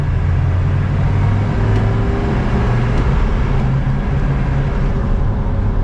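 Militarized Hummer H1 DEA Edition driving and turning, a steady low engine and road rumble continuing evenly throughout, close and fairly loud with no voices.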